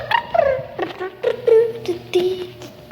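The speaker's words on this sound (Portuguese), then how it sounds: "Deixa eu mostrar a cachorrinha Bela aqui." Bela, a small female dog, lets out a series of short, high whimpers and yips in quick bursts, close by and fairly loud, with faint voices in the background.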